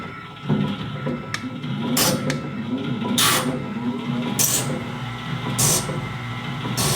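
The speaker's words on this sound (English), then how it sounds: "let's power it on and get this one done. Got the feed rate going." A sawmill blade sharpener grinds a band saw blade, a steady mechanical hum with a repeating whoosh and hiss of the grinding wheel passing tooth by tooth, recurring every second or so.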